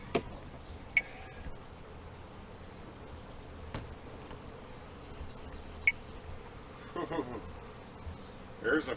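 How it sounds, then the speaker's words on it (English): Honey bees buzz faintly around an opened hive box during the installation of a nuc, a low steady drone with a few brief clicks and taps over it. "There's a few bees."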